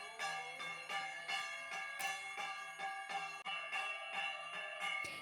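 Temple bells ring during an evening aarti, steady rhythmic metallic strikes repeating about once a second, loud and close with bright lingering overtones and no talking.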